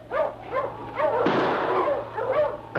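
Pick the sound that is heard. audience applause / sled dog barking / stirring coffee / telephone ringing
sled dog barking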